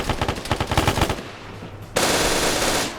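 An MG3 machine gun in a video game fires a rapid burst of shots for about two seconds, then a brief lull before a loud dense crash of sound takes over.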